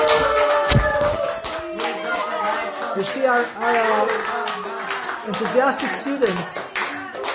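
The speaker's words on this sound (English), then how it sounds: "Continue clapping." Enthusiastic students clap their hands steadily throughout, a dense rhythmic patter running under continuous talking and chanting voices, with the claps close and fairly loud.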